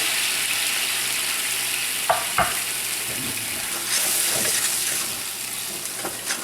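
Lamb pan deglazed with wine, with whole shallots and thyme added, gives a loud, steady sizzle and hiss, with a few stirring scrapes cutting through the bubbling.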